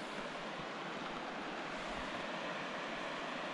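Rapids in a river canyon along the Kevo trail roar in a dense, unbroken wash of water noise, steady and even, with no voices over it.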